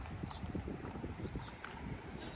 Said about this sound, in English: Pretty horse and buggies.